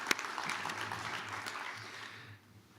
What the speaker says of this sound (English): Another round of applause for our panel members, please.